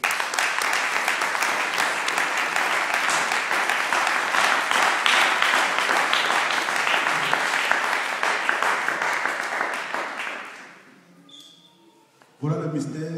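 A church congregation applauds loudly and steadily for about ten seconds, the clapping dense and close, then fades as a voice begins speaking.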